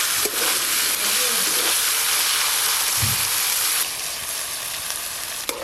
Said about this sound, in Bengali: চিকেনের পিসগুলো এভাবে নেড়ে নেড়ে খুব ভালো করে ভেজে নেব।